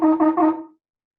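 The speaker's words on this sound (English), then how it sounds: "truah is a series of short staccato blasts" Shofar sounding truah: three short, close, loud blasts in quick succession, with no voices.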